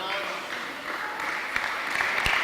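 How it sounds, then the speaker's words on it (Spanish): An audience applauds inside a church, rising from a wash of clapping with a few sharper claps near the end, while a voice talks over it. "Si quiere darle fuerte el aplauso, déselo al Señor"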